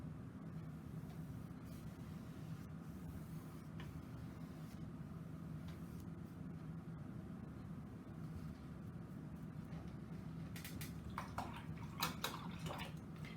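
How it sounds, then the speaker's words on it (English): A paintbrush rinsed in a water container during a landscape painting session, giving a steady, faint watery swish and rustle throughout, with a few light clinks near the end and no talking. "I'm rinsing my brush off."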